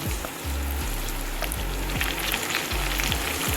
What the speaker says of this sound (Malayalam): പേസ്റ്റാക്കി വെച്ചിരിക്കുന്ന ആ മുളകും എല്ലാം കൂടി ഇതിൻ്റെ അകത്തോട്ട് ഇട്ട് കൊടുത്തിട്ട് നമുക്കൊന്ന് മൂപ്പിച്ചെടുക്കാം